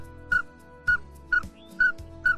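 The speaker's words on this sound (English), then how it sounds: "he did the whistle, and it's a flutter noise" Five short, high whistled duck calls for pintails repeat at an even pace, each a quick fluttering chirp, close and distinct over a faint low hum.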